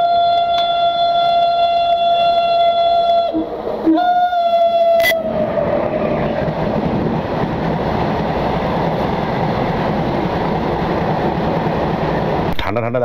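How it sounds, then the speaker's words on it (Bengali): A freight train approaches and passes a small station in dense fog, opening with a sustained horn blast before a steady, loud rumble of wagons rolling close by continues throughout. "মালগাড়ি মনে হচ্ছে"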